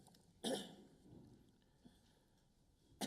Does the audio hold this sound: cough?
yes